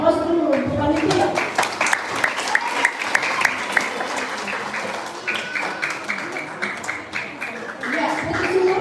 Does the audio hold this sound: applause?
yes